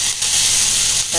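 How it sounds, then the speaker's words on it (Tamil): Hot tempering poured into a mint and coriander chutney, giving a loud, close burst of sizzling hiss that fills the short moment without any speech. "தாளிச்சதை வந்து சட்னியில் ஊற்றிடலாம்."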